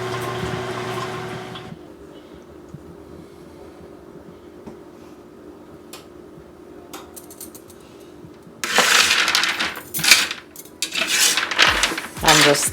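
Butter-coated roasted almonds being stirred in a pan. Quiet scraping early on gives way to louder rattling, clattering bursts near the end, close to the listener, with no talking.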